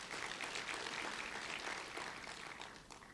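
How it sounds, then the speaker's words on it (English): Nurses at a nursing conference applaud, a faint, distant wash of many hands clapping together at an even level for a few seconds. "you really owe yourselves a round of applause for that amazing response"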